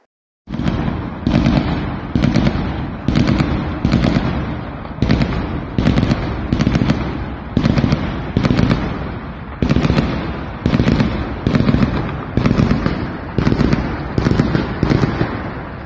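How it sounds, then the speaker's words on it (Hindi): Rapid bursts of gunfire from STF fighters shooting at a house in Syria, loud repeated volleys in an even rhythm of roughly one burst per second, with no voices. "एसटीएफ लड़ाकों ने कैसे उस घर को आग के गोले में बदल दिया, गोलियों से भून डाला"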